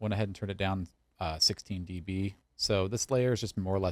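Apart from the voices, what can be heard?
No everyday noise stands out behind the speech.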